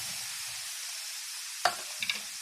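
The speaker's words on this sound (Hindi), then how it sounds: "और इसकी हम भुनाई कर लेंगे तब तक जब तक ये हल्का सा ब्राउन नहीं हो जाता" Gram flour roasting in a pan for besan halwa, a soft steady hiss with one sharp scrape of a spoon followed by a couple of lighter stirring clinks, quiet and close.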